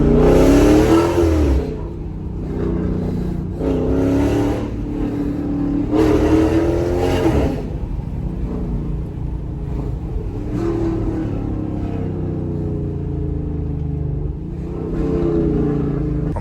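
A Chrysler 300 with a 5.7L engine and BBK headers revs hard in repeated loud bursts, each roar rising and then falling back to a deep, rumbling idle between blips.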